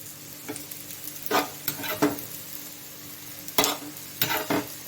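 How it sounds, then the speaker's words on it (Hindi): Oil sizzles in a pan while food fries, a soft steady hiss broken by a few louder scraping or stirring bursts, heard close up with no talking. "तो इसके साइडों पे मैं डाल दूंगी ऑयल।"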